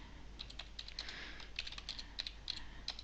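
Typing on a computer keyboard while entering a page name in OneNote: a steady run of quick, light key taps, close and fairly quiet, with no talking.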